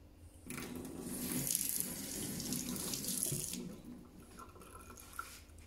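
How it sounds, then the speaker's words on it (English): Homemade butter rinsed under a running kitchen tap, a steady close splash of water into the sink that runs for several seconds, then stops and leaves a few faint drips. "And then I even give it a slight rinse."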